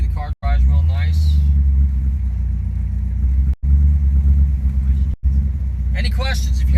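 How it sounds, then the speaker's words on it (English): A 1955 Mercury Montclair gives a low, steady engine rumble while it cruises, close and continuous, with a voice talking over it at the start and again near the end. "as you can see, the car drives real nice"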